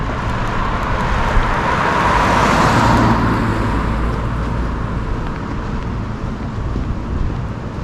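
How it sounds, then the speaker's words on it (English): Steady road traffic on a residential street in Southwest Harbor, Maine, in January, a continuous loud roar of passing cars with wind buffeting the microphone, swelling briefly as a vehicle goes by close. "Oh my gosh, traffic."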